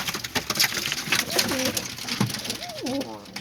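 Pigeons coo close by in a rooftop loft, several soft rolling coos rising and falling over a backdrop of fluttering, scratching and light clatter, with no one talking.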